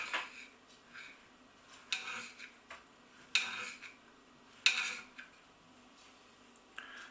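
A knife chopping ripe, juicy tomatoes on a board, a series of quiet, separate taps and clicks spaced irregularly about a second apart, fairly faint, with no talking.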